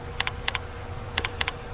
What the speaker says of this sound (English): if I start typing while it's selected, I'll just type refresh here